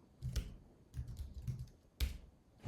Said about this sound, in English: But when I type,